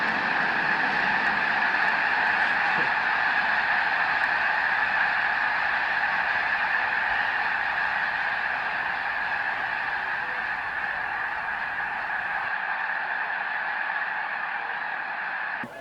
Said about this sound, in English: the sound of a frenzy of snow geese preparing to make the final trek into Canada